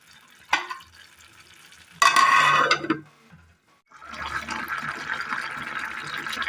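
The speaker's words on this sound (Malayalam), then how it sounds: "സബോള ഇട്ടതിന് ശേഷം നന്നായി തിളച്ച് വന്നിട്ടുണ്ട്." A Kerala-style curry with chopped onion bubbles in a pan: a couple of clattering bursts come first, then a steady, close simmering bubble.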